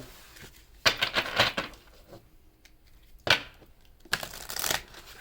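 Tarot cards riffled and shuffled in a few quick bursts, close by, with quiet pauses between them.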